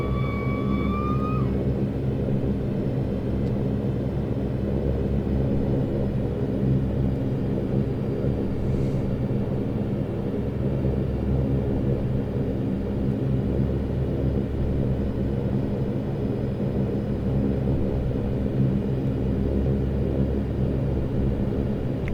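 A Loganair Saab 340 turboprop in the X-Plane 11 flight simulator taxis at Kirkwall on a small amount of thrust. Its engines give a continuous low, even rumble that drones steadily, with no talking.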